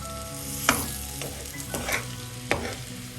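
Bitter gourd is sautéed in a pan, a steady low sizzle punctuated by a few distinct scraping strokes and clinks of a spatula on the pan, close and clear with no talking.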